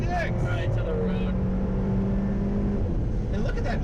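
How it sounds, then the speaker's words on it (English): An Alfa Romeo 4C sports car engine downshifts through a corner with a steady road drone and brief gliding revs. A voice talks over the engine throughout. "you can hear me trying to downshift a little too early"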